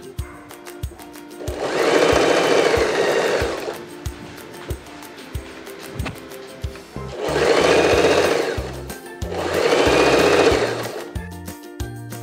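Sewing machine running a straight seam to attach bias binding to a blouse, in three sustained whirring bursts of a few seconds each, separated by quiet pauses with small clicks of fabric handling, close and steady.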